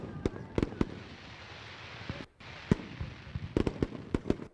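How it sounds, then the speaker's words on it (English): Fireworks bursting above a dirt oval speedway on a Friday race night, a string of sharp, loud booms and crackles coming in uneven clusters over a steady crowd-and-engine background roar. "World fireworks lighting up the skies we do every week here"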